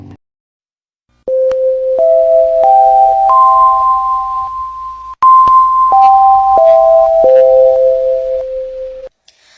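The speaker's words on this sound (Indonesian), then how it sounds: "Bel tanda masuk telah berbunyi" An electronic school entry bell chime plays loud, clear tones, stepping up four notes and then back down, with no talking.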